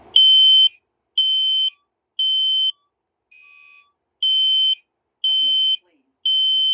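Repeating electronic fire alarm tone sounding inside a building, loud half-second beeps in a steady pattern with one quieter beep mid-sequence, alone without talk.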